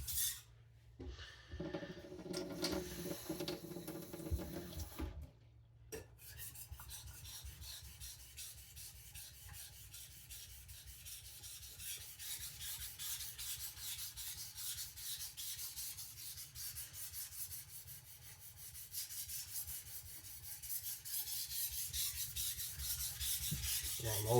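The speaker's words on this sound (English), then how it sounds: "You don't need to press harder than you do to get the stone cutting." Steel knife blade rasps back and forth on a sharpening stone during restoration of a badly abused knife, a close, continuous scraping rhythm after a couple of brief louder noises at the start.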